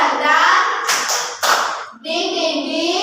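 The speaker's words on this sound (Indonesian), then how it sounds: "Tepuk semangat." Children do a tepuk semangat clapping chant in a lesson, with short bursts of sharp hand claps set between chanted and sung voices, close and loud.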